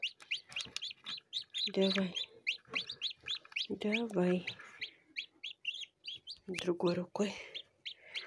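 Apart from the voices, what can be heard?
newly hatched chicks chirping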